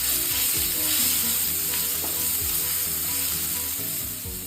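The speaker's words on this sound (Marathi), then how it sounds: "चार पाच हिरव्या मिरच्या लसूण आणि जिऱ्याचं एक वाटण केलं होतं ते ॲड केलं आहे मी त्यालाही छान परतून घ्यायचं आहे" Paste of green chilies, garlic and cumin sizzling loudly in hot oil for bread pakora filling, a dense continuous crackle close up with occasional stirring scrapes.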